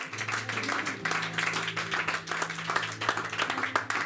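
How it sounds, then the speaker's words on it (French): A church congregation applauds together at a Christian service, with dense, rhythmic clapping that stays steady for several seconds over a low sustained tone in the background. "Tu acclames parce que c'est la fin ou bien parce que tu es content?"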